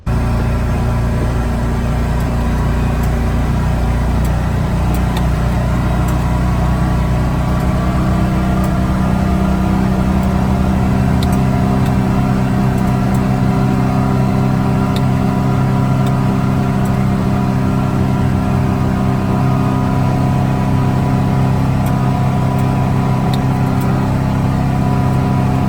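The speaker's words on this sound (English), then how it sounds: "you can see the side-by-side driving down the road" A Can-Am Defender side-by-side drives along a road, its engine a loud, steady drone with tire and wind noise that stays constant and near throughout.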